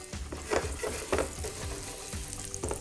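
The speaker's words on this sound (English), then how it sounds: "I'll put the garlic in first. And I won't be cooking it completely. I'll just sweat it very lightly" Garlic sweating gently in a pan for a chickpea and kale curry, giving a soft steady sizzle with a few spatula scrapes and stirring strokes, close and alone with no voices.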